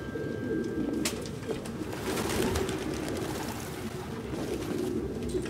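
Pigeons cooing steadily in a cluttered apartment turned into a dovecote in the video game Detroit: Become Human, a dense low murmur of overlapping coos filling the whole stretch at moderate loudness.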